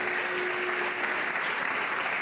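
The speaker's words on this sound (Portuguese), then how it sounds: "Dê um aplauso ao Senhor pela sua Bíblia." Church congregation applauding steadily and fairly loud, a dense even wash of clapping with no talk over it.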